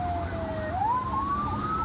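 An ambulance siren wails at a fatal highway accident scene on the Jakarta–Cikampek toll road, a single steady tone that dips then rises in pitch, heard at moderate distance over low traffic rumble, with no talk.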